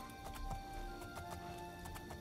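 Rhythmic hoofbeats of a horse in the video game The Elder Scrolls IV: Oblivion moving at a steady clip, with regular thuds over a constant synthetic background hum.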